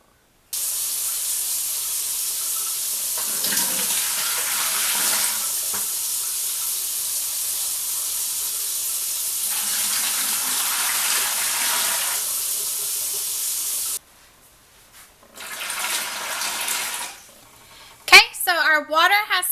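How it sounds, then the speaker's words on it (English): Hot water runs from a sink tap into a big bucket, a steady loud hissing spray for about thirteen seconds, then stops, followed by brief splashing and handling noises. "we need to fill up our bucket with 10 cups of hot water"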